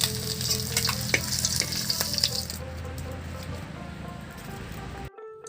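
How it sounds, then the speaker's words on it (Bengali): Catfish fry in oil in a pan with a loud, continuous close sizzle and some scraping as pieces are lifted out, the hiss easing off before the sound cuts to quiet. "মাছগুলো ভাজা হয়ে গেছে"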